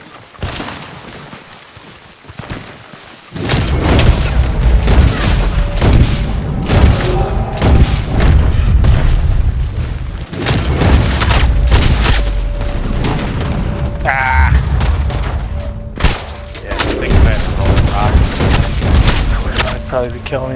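A Red Dead Online battle: loud booming gunshots and rapid volleys roll almost continuously, with a voice talking over the fighting.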